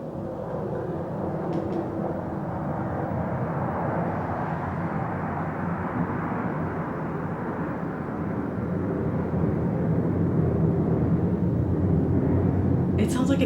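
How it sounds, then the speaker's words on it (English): An airplane passes over a house, a loud low broad roar that holds steady and slowly builds across the whole stretch, heard from indoors. "It sounds like an airplane is like going above my house."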